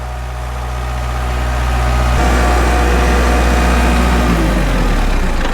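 A Kubota L4701 compact tractor's diesel engine runs steadily at throttle while working a loader bucket on gravel, a loud, continuous low rumble that swells slightly partway through and holds a heavy, even drone with no talking.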